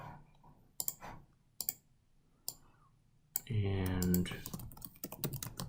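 Someone types a password on a computer keyboard, producing a few sparse, sharp clicks and then a quick close burst of key presses, with a voice speaking briefly over the typing.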